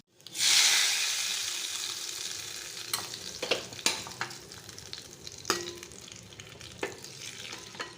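Fennel seeds tempering in hot ghee burst into a sudden bright sizzle that slowly settles into a steady hiss. Scattered crackles, pops and stirring knocks sound over it.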